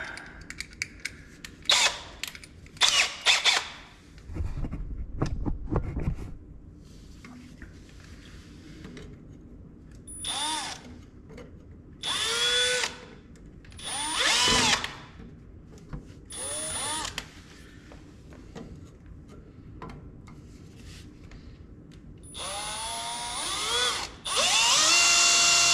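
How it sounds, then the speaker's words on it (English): A power drill whirs in repeated short bursts of varying length, close by, with clicks and handling noise between runs. "Let's go ahead and drill that."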